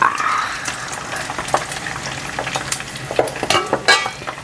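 Pork pieces sizzle and crackle loudly in hot cooking oil for pinakupsan, with a steady frying hiss broken by sharp pops and spatters at close range and no talking.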